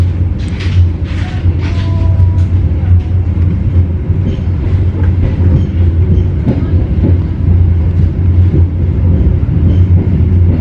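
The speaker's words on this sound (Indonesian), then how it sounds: "kita kereta api Tegal Bahari diberangkatkan dari stasiun Pegadaian Baru" Tegal Bahari train pulling out of Pegadaian Baru station, heard from on board as a loud, continuous rumble with clanks and rattles and a few short squeals.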